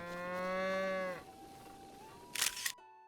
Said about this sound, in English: Hetano cow.